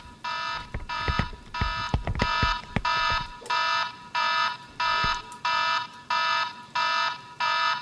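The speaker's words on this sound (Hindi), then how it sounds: "घर में अलार्म की आवाज" A household alarm sounds indoors in a regular series of loud, evenly spaced electronic beeping bursts, a few sharp knocks and clatters overlapping the first half.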